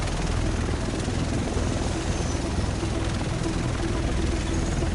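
Helicopter arriving over the city in the video game The Division, a loud, continuous rotor thrum and engine roar that holds steady and close throughout, with no other sound standing out.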